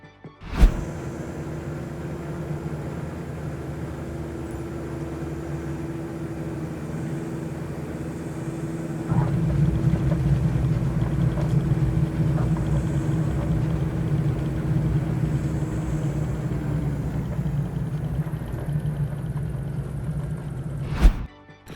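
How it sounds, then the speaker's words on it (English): Airport ground vehicles in a flight simulator game give a steady low engine rumble with a continuous hum, growing heavier midway before easing off, with sharp clicks at the start and end and no talking. "You'll find most of the airport vehicles are working here, and it does give you that hustle and bustle feel of an airport"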